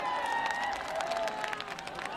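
Audience applause at a Bhojpuri stage show, a dense steady patter of many hands clapping throughout, with a tonal hum and faint crowd noise mixed in.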